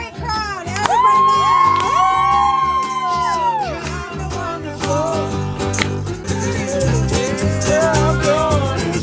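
A live concert crowd cheers and whoops steadily throughout, loud and sustained, mixed with music and singing on top.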